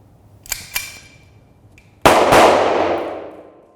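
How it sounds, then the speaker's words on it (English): Numerex blank-firing replica of a Colt 1911 pistol: two light mechanical clicks, then a single loud close shot with a long reverberant tail. "Firstly, I'm going to fire this gun made by Numerex. It's a copy of the Colt 1911."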